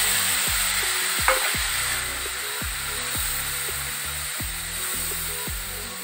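Onion paste fried in oil with bay leaf and whole spices, given a steady hissing sizzle with regular spatula knocks and scrapes against the pan every half second or so, with no one talking.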